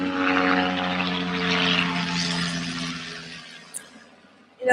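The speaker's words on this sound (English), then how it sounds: "It's a helicopter and it flies over my house all the time" A helicopter drones steadily overhead with a low whirring hum, gradually fading as it moves away; no talking.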